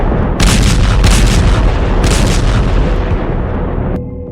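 Explosions near Iran's Bushehr nuclear plant during a military strike, a loud rumbling series of booms with sharp bursts layered over heavy low-end roar, continuous for about four seconds before cutting off, no speech.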